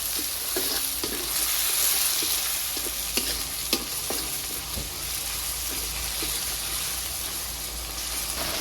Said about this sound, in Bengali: এখন দিয়ে দিব পেঁয়াজ কুচি, দিয়েছি সাথে কাঁচামরিচ কুচি। তো সবকিছু হালকা ভেজে নেব।